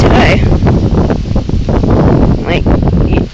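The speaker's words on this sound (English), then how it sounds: "it is very windy." Strong wind buffets a microphone outdoors in Pennsylvania, producing loud, gusty, low rumbling bursts that come and go for the whole stretch, with faint rustling mixed in.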